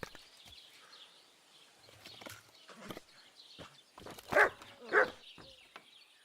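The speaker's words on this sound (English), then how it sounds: "You silly doggy." A dog in the medieval game Kingdom Come: Deliverance II gives two sharp, loud barks close together near the end, over faint ambient game sounds and soft footsteps or hoof clops.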